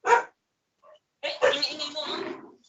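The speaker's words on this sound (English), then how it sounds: "The dog is joining." A dog barks once sharply at the start, then a louder burst of barking follows after a short pause, heard over a phone or call line during a religious debate.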